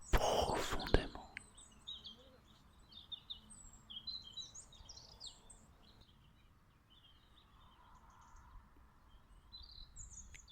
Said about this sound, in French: Et les oiseaux vont t'accompagner encore un peu.